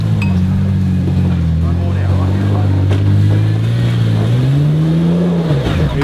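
A Jeep's engine revs hard as it climbs a steep off-road hill track at night near Coffs Harbour. The loud, droning roar rises and falls in pitch under sustained throttle.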